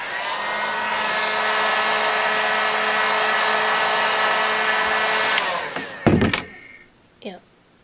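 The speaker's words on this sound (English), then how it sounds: "Okay, real quick with the heat gun there." A heat gun blows a loud, steady whirring roar while heating Worbla thermoplastic for cosplay, running for several seconds before switching off, followed by a few clunks and near silence.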